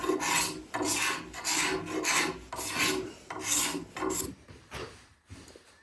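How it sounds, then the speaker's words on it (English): A farrier's rasp shaping an Osage orange self bow, with loud, close, rhythmic rasping strokes about every half second, each a coarse scrape, slowing and fading near the end. "Using a farrier's rasp works well, as well as a card scraper."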